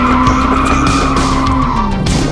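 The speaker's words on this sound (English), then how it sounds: "The tire is shredding itself." Car drifting at a speedway, its tires screeching loudly and continuously as they skid and shred, close up, with the engine droning underneath.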